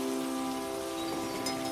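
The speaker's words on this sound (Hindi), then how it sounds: "ये कैसी बारिश है?" Steady heavy rain pouring over a forest in an animated story, a constant even wash with a faint tonal hum underneath and no voices.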